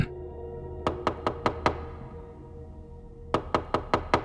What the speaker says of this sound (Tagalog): bigla na lang may kumatok sa pintuan niya nung mga bandang tanghali ng araw na yun